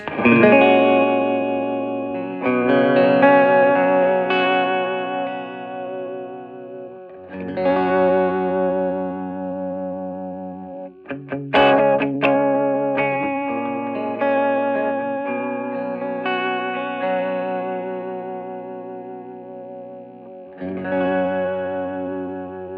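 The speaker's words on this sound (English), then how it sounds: "Some guitar noise." Distorted electric guitar through a late-1950s Magnatone Troubadour tube amp, playing chords and riffs with heavy effects and reverb, loud and continuous with a brief pause midway, no voices.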